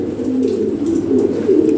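A pair of golden dun pigeons coo in a low, soft, continuous murmur, close by and with no talking.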